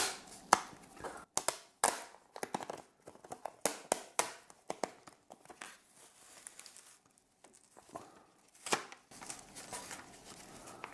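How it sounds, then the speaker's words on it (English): Sharp tearing and crackling bursts of tape being peeled off a reverse-osmosis water filter cartridge, irregular and close, with quieter rustling handling noises between the louder rips. "I'm going to peel this tape off and it's going to be loud"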